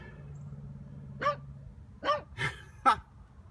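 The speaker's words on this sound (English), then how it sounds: "they're only barking because I'm talking." Dogs bark in four short, sharp bursts spaced across a few seconds, fairly close, over a quiet low hum.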